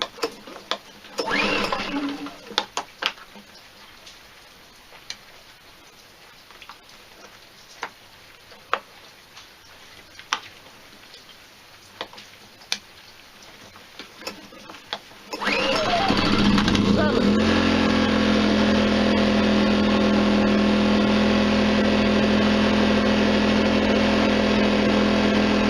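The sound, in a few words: iPower SUA2000iD dual fuel inverter generator running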